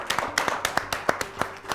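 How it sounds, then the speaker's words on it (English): A small audience claps for a child in a televised school spelling competition, a steady burst of close hand claps lasting under two seconds. "Let's give him a round of applause."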